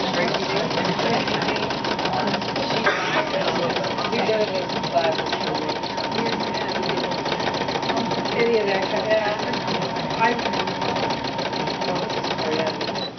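A sewing machine runs continuously at a steady rapid stitching rhythm while stitching Floriani Heat N Shrink fabric at a sewing center, close and loud, with people talking over it throughout.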